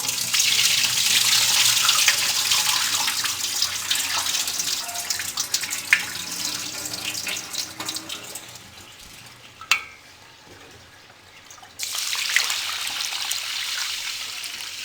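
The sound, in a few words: pouring out water used to rinse rice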